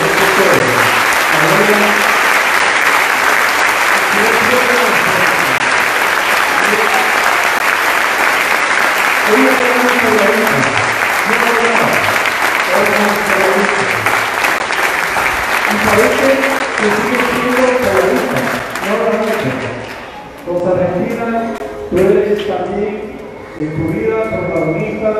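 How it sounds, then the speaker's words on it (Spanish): A congregation at a memorial anniversary mass applauds loudly and at length, with voices calling out beneath the clapping before it thins near the end. "conmemoramos la resurrección de Alvarito, que le demos un aplauso fuerte a la abuela"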